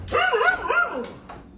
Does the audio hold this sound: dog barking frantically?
yes